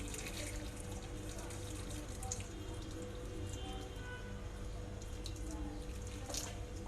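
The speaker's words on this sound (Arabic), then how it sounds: "حبة مية مغلية كده." Boiling water pours steadily into a pot, a continuous splashing stream with a few drips, moderately quiet and close.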